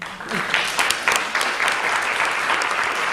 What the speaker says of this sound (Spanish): Nos merecemos un gran aplauso por esto,